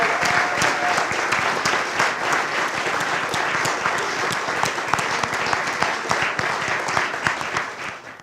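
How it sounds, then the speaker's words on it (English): A large audience at an awards ceremony gives a sustained round of applause, thick continuous clapping at even loudness that tapers off at the close. "let's give them all a huge round of applause"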